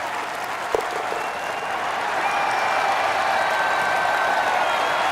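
In EA Sports Rory McIlroy PGA Tour, a golf crowd breaks into applause, a dense, steady wash of clapping that swells and holds, loud and continuous throughout.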